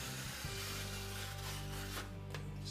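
A blade trims a small section off a wood board, giving steady close scraping and rubbing over a low background hum, with a few sharper strokes near the end.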